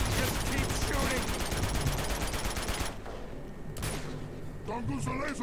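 Sustained rapid gunfire from the video game Uncharted 2: Among Thieves on PS4, dense bursts for about three seconds, then sparser shots and game effects, loud and close.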